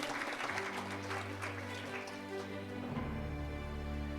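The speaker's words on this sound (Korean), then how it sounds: "큰 박수 부탁드립니다" Faint applause at a library award ceremony, a soft, rain-like patter of clapping hands heard from a distance beneath a steady low electrical hum.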